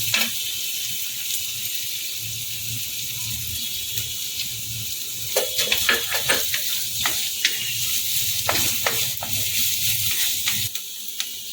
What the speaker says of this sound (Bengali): হালকা একটু নাড়বো বেশি নাড়বো না